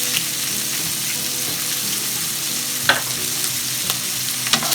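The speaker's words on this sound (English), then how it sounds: "and give it a nice stir." Meat frying with cumin and black pepper for Chinese-style spaghetti sizzles loudly and continuously, with a few scraping strokes of a utensil stirring the pan.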